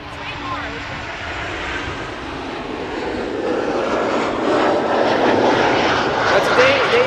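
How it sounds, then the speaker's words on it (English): An Airbus A380 lands at Schiphol Airport with a steady, loud broadband engine roar that builds gradually over several seconds, with voices faintly under it. "today the A380 has landed safely, no go-arounds."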